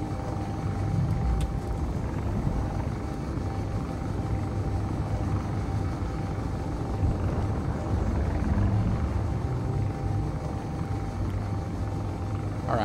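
A helicopter-like ship engine in the Space Engineers video game: a steady low throbbing rotor-style drone, loud and continuous, with faint rumbling shifts and no talk.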